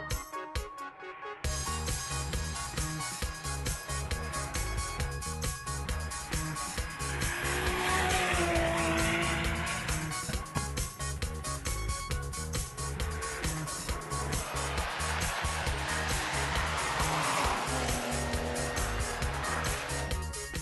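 Race cars launch off the line at the Renault Simola Hill Climb, high-revving engines screaming through rapid gear changes with tire squeal, the sound rising sharply after a brief quiet opening and staying loud throughout.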